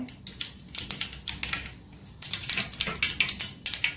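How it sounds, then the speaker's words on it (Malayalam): Mustard seeds crackle and pop in hot oil, a quick irregular patter of sharp little clicks, close up and fairly loud, with no talking. "കടുക് പൊട്ടി വന്നപ്പോൾ"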